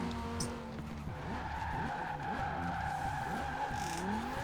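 Tires squeal and skid as a car brakes hard on a racetrack in Forza Horizon 4, a continuous close screech over a steady engine drone with wavering pitch sweeps.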